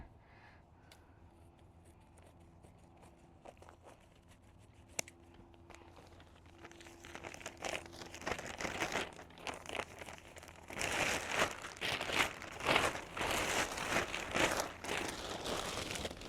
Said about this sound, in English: So we're going to take the garbage bag, and I'm going to cut it down to size.